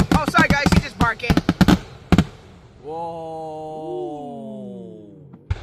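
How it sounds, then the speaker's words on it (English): Night fireworks going off nearby: a rapid cluster of sharp, loud cracks and bangs that stops abruptly, followed by a long tonal whistle or howl that holds and bends, then a final pop. "Look, fireworks."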